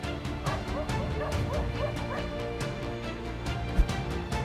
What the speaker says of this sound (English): the domestic dog reacted quickly, dodging the leopard's attack and constantly barking at the opponent's face